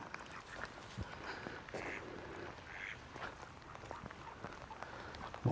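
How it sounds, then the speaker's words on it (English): Ducks quacking softly by a lake near Chichester, several short calls scattered over a quiet outdoor background. "Don't want to disturb the ducks."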